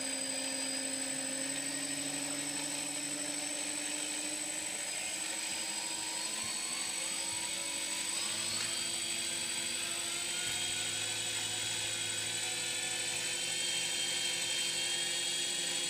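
DJI F450 Flamewheel quadcopter with its motors revving up through the throttle range, a loud, steady high-pitched whine with drifting tones, close and continuous, no voices.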